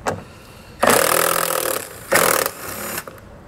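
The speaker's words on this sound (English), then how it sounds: "we're going to take an 8mm socket and remove those two screws that we just revealed" An 8mm socket backs out the taillight screws on a 2019 Ford Escape, with two loud, close bursts of spinning and whirring separated by quieter pauses.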